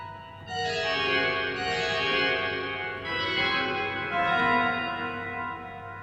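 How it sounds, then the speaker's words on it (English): Cavaillé-Coll pipe organ in Manchester Town Hall playing a Messiaen passage on bright mutation stops, rich sustained chords that swell and shift in several overlapping phrases, loud and alone. "we hear lots of these fabulous mutation sounds like this."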